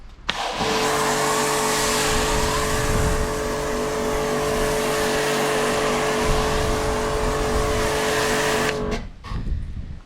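A Karcher pressure washer runs steadily, spraying soapy water through a WB7 three-in-one brush with a loud, continuous motor hum and hiss that starts abruptly and cuts off near the end.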